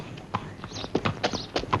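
Horse hooves clip-clop in a handful of sharp, uneven knocks, fairly close, with faint background noise and no voices.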